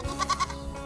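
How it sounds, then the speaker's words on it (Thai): A young goat lets out a short, quavering bleat of quick pulsed cries, close by and alone, lasting under a second against low background noise. "มีฮอดลูกแบะ"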